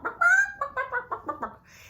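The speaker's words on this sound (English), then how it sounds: "The chickens were pecking and clucking and flapping their wings." A chicken clucks in a quick run of six or so rhythmic, nasal bursts, close and fairly clear, with no talking.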